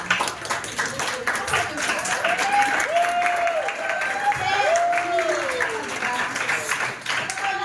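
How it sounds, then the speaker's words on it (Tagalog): A small seminar crowd bursts into broad, steady clapping that carries through the whole stretch, while a speaker's voice continues over the top of the applause. "Palakpakan nyo mga sarili."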